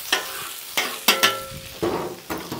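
Chicken frying on a Blackstone griddle while it is stirred. Repeated close scrapes and clanks of a spatula on the flat-top rise over a steady sizzle, five or six strokes in a loose rhythm with no talk.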